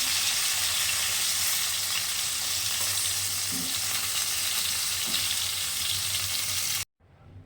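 Pieces of catla fish frying crisp in hot oil, giving a dense, even, loud sizzle throughout that cuts off abruptly near the end.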